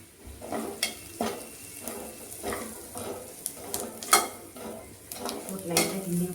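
Homemade masala powder stirred in a sizzling pan on the stove, with a spoon scraping and clinking against the metal in irregular strokes.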